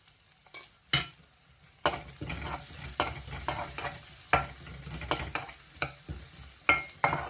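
Curry leaves and beetroot fry slowly in a pan for beetroot palya, stirred with repeated scraping strokes and clinks over a low, steady sizzle, no talking.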